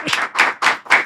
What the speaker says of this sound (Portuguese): com os aplausos de vocês aí do outro lado e aqui do nosso estúdio, Dedé Santana.